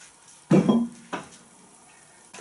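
Turkey liver chops dipped in egg and flour hit a hot frying pan with a sharp burst of sizzle, then a second softer one as another piece goes in, in a quiet kitchen.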